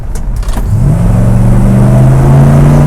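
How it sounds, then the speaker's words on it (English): A 1973 Dodge Dart Swinger accelerating hard from a roll, its engine note rising and then holding a loud, steady, strained drone close by, with no talking. "we're going to do like a 20 mile an hour drop down roll here and let you see the awesome power of Scoops"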